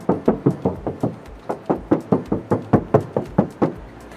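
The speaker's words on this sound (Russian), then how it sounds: "Ну что, настало время постучать." Knuckles rap on the body of a 2023 Tank 300 SUV in a fast, steady run of about twenty sharp, close knocks, evenly spaced and loud, with no one talking.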